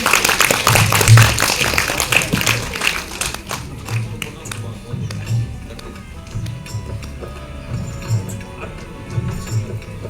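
Audience clapping at a Tamil audio launch event as a guest doctor is welcomed onto the stage, a burst of hand claps that trails off under continuing crowd murmur and a speaking voice.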